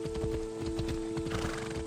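Horse hooves clip-clopping in the Assassin's Creed Odyssey video game, a steady trotting rhythm with occasional whinnies over a constant in-game hum, no talking.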